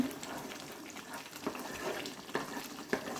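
Ghee is stirred into a cooking chocolate mixture in a pan, with a soft continuous bubbling sizzle and occasional scrapes of the spoon close by.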